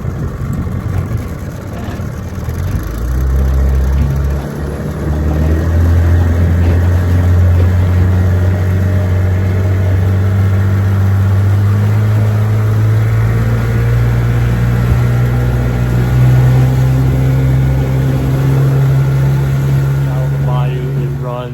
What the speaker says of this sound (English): Awesome motor. Let's take it for a run.